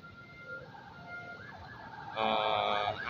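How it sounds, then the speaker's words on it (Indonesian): An ambulance siren wails on a city street during Lunar New Year in a Chinatown, moderately distant at first, then growing louder as a second warbling tone layer joins near the end, with no talk. "Ambulan."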